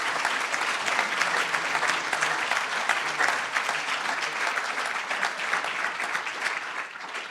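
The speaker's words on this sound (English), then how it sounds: "If we could give them a round of applause." A seminar audience applauds a career education panel, with sustained, even clapping from a room full of people for over seven seconds that eases off slightly near the end.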